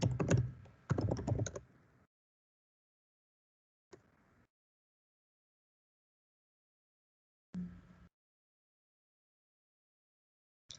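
Computer keyboard typing while entering text into an Excel spreadsheet: a dense cluster of quick keystrokes, then isolated short bursts of tapping separated by silence, close and clear.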